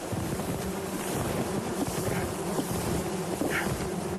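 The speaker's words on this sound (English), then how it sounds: "Bird's box is buzzing with a few thousand bees" A swarm of a few thousand bees buzzes inside a box, a steady dense drone close by with wind-like noise, fading out at the very end.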